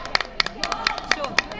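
A small audience at a college sari event claps in a sparse, uneven burst of about nine sharp, distinct claps, close and fairly loud, with faint voices underneath.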